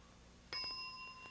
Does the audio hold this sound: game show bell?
yes